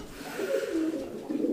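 Andalusian house pigeons coo at a fancy pigeon farm, soft low rolling calls rising and falling in a steady murmur, fairly quiet and close, with no talk over them.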